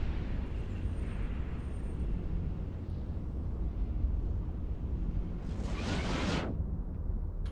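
Kinetic missiles launch from a Gila ship in a space combat game: a single bright rushing whoosh bursts out near the end over a steady low rumbling engine bed.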